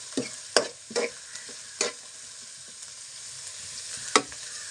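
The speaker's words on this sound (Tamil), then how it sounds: "அடுத்தது இதை கிளறி விடணும். இதனால் கிளறி விட்டுட்டு" A spoon stirs food frying in a pan, with several sharp scraping and clinking strokes at irregular intervals over a steady soft sizzle, close and clear with no talking.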